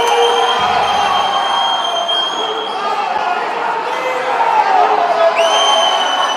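Fans of Sennori in a basketball arena keep up a continuous crowd roar with whistles and shouts under an Italian commentator's voice, broad and fairly loud.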